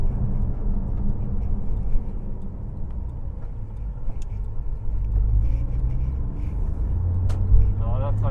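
A Porsche 911 Turbo's engine rumbles low and steady from inside the cabin as the car pulls away gently, with a slight swell toward the end.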